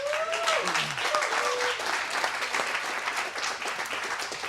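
At a Sport Kart Grandnationals press conference, a crowd gives the CalSpeed crew sustained applause, dense and steady from start to finish, with a voice briefly speaking over the clapping early on.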